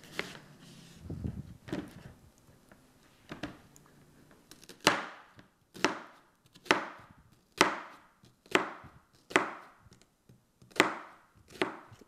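A knife chops an onion on a cutting board, first a few scattered cuts and then a steady run of about ten crisp, evenly spaced thuds, close and clear.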